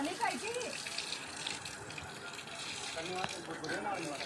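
Water drawn up from a well beside a small natural pool at a forest temple site, a steady gushing, splashing flow heard close by for the whole stretch, with people talking over it.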